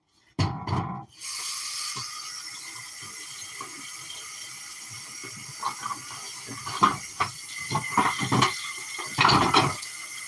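Hot tap water pours from a faucet into a kitchen sink, a steady hiss after an abrupt start, with intermittent splashes and clatters from items under the stream.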